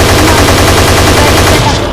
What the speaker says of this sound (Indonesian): Suara tembakan dan ledakan menjadi lagu pengantar.